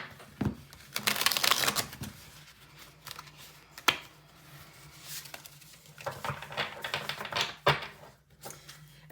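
Crisp riffling and fluttering of tarot cards being shuffled close by, in several bursts with brief pauses and soft taps between them.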